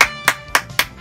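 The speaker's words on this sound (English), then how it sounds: "And give them good applause." Four sharp hand claps spaced about a quarter second apart, with no crowd or voices, given as applause for families on a Family Feud–style game show.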